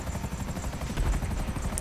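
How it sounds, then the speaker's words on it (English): Police helicopter in Grand Theft Auto Online, a steady close rotor thrum with dense low-frequency chopping that holds throughout without any voices. "the cop helicopters, though"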